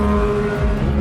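Race cars in a Le Mans field of LMP2 prototypes and GTE cars roar past on the track, a loud, continuous engine blare with no break and no voices.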